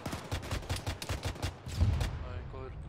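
Rapid bursts of gunfire from an Arma 3 jungle firefight, a steady rhythmic volley of close shots for about two seconds, then a brief pause and a few scattered trailing sounds.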